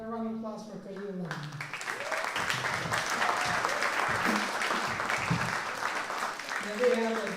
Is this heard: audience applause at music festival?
yes